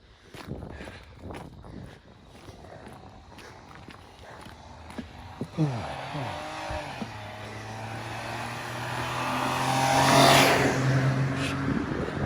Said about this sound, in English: taxi coming, gotta get off the road, revving the tits off it.